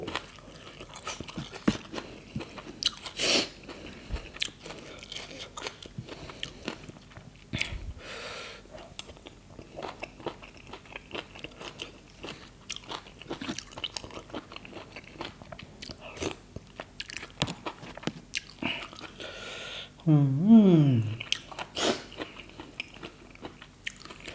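Someone eats large red cockles with crisp kale, producing scattered close crunches and wet chewing clicks over about twenty seconds, with a brief burst of louder noise near the end.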